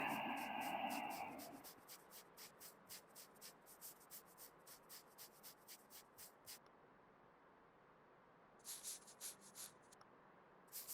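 Finishing sandpaper rubs over car paint in the Car Dealer Simulator game, a run of quiet, rhythmic scratchy strokes after a brief louder burst, then a pause and a few more strokes.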